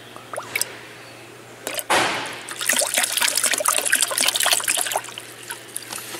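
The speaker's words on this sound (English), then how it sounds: "it's starting to suck all the fluid to the system." Coolant trickles and gurgles steadily after a brief whoosh, a close, continuous bubbling flow as it is drawn into a Hyundai Elantra's cooling system with the engine off.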